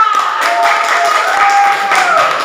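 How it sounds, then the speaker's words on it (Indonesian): High school class applauding group 2 in a classroom, a dense, close ripple of clapping with voices mixed in underneath. "Tepuk tangan untuk kelompok 2."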